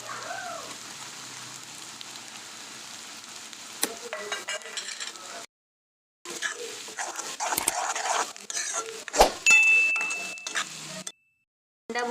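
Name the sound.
egg bhurji frying and being stirred in pan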